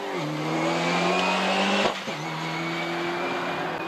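A Ford Escort Cosworth rally car running slightly off song through the chicane at Rathbarry Village. The engine drones loud and close with a strong harmonic whine, then drops sharply for a moment as if lifting off before picking up again.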